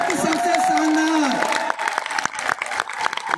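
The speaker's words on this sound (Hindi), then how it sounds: "अब तक की सबसे शानदार ताली" An audience at a celebratory gathering breaks into applause, with clapping swelling after a brief vocal cheer and continuing as dense, close handclaps.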